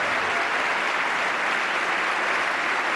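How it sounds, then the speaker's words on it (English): A large audience applauds during a political address on raising the minimum wage to $9 an hour, with loud, dense, continuous clapping from many people at once. "A lot of people standing and clapping."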